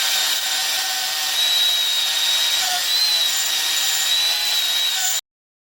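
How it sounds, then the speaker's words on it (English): Wire brush scrubbing quench scale off oil-hardened steel drill chuck keys, a steady close abrasive rasping that runs continuously for about five seconds before stopping abruptly. "And a little wire brushing to remove the scale."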